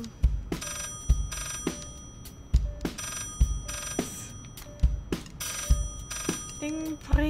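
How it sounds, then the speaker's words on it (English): A telephone rings in a room, sounding in a series of sharp, regularly spaced bursts with short gaps between them, fairly close and repeating throughout. "when a phone rings in this room, it's a big deal"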